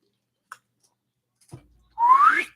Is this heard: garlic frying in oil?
no